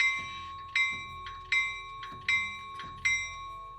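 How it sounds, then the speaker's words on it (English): The bell sound of a Rapido F59PH model locomotive rings in about five evenly spaced, clean strikes, each with a ringing decay, close and fairly quiet. "Good clean bell."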